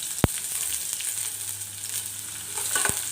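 Onion frying in a little oil in a pan, a steady bright sizzle throughout with a couple of sharp spoon clicks against the metal and light stirring, close up.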